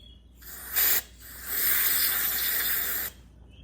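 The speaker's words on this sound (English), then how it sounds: "I'm gonna kind of go ahead and spray some of this stuff off." An aerosol can of carburetor cleaner sprays in two bursts on a Honda Foretrax 250 carburetor, a short hiss followed by a longer steady spray of about one and a half seconds, close up.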